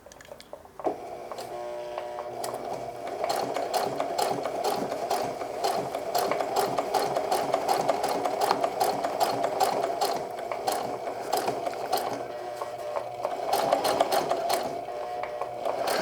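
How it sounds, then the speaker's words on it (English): A sewing machine stitching a hem on denim jeans, rapid rhythmic mechanical ticking that starts after a brief pause and runs steadily, close and clear, with short breaks in the stitching and no talk. "I'm just going to go ahead one more stitch and then do a back stitch for a couple"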